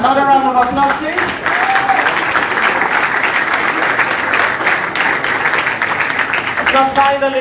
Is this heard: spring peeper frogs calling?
no